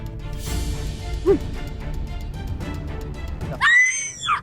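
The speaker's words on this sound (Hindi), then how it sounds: "लड़की की चीख सुनकर सब घबरा गए" A girl's sharp, high-pitched scream bursts out near the end, loud and close, over a dense background of dramatic music and voices from a Hindi TV drama scene.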